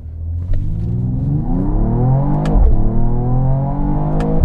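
A Mercedes-AMG GT 53 coupe launching hard in manual mode, its engine and exhaust roaring loud and close as it climbs steadily through the revs, with a brief upshift break midway.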